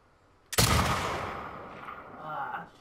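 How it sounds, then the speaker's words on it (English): A single loud, booming gunshot from the video game The Last of Us Part II, with a sharp attack followed by a long, rolling echo that fades over about two seconds. "I'm shooting that thing like a mile above their heads"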